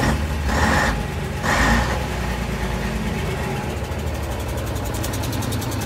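A Leyland O.600 diesel engine in a 1966 Leyland Titan PD3 double-decker bus with East Lancs body idles steadily with a low rumbling throb, close by, with a couple of brief louder bursts near the start and no voices.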